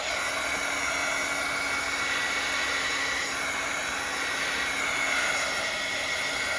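A heat tool or hair dryer blows steadily, drying thick paint and paper in a Bible journal. Its constant whooshing hum with a faint tonal whine is close and loud and runs without a break.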